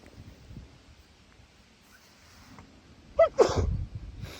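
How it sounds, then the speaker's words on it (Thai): A single sharp human sneeze bursts out loud and close near the end, after a stretch of quiet outdoor air in a flower garden. "โอ้ยข่อยสีจามเนี่ยพี่น้อง"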